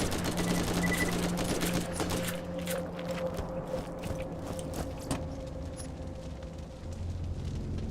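Rapid, rattling bursts of acid elemental gunfire from Borderlands, the shots running together in a fast, mechanical volley over a low rumble, fairly quiet and with no talk.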